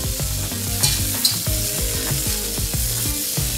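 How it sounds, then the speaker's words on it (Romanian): Onions frying with butter in a hot pan, giving a steady, dense sizzle with the occasional stir or clink over it, close and constant throughout. "Scoatem ficatul din tigaie și punem ceapa. Adăugăm o bucură de unt."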